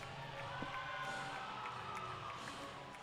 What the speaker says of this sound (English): Crowd getting into the atmosphere ahead of these quarterfinals.